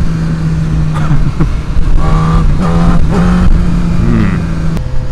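A 2012 BMW S1000RR motorcycle engine hums steadily under the rider throughout, with a few brief rising revs and gear changes, heard from onboard over constant wind rush.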